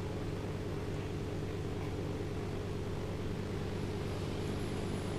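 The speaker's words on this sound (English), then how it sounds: "Whoa, I hear a fighter." A fighter jet in ArmA 2 roars overhead, a steady broadband rumble holding at even loudness throughout with no speech.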